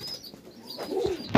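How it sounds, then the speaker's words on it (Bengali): A big-beaked male pigeon with a mongoose-like head gives a short, low, rolling coo near at hand, swelling toward the end, with no talking. "একদম বড় চোচের পায়রা।"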